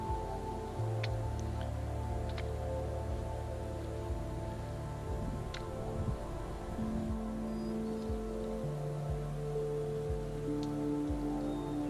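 Rain patters steadily on surfaces at a mountain campsite in the Canadian Rockies, a soft continuous wash with scattered sharper drips, faint and close, with no voices.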